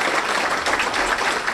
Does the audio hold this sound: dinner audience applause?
yes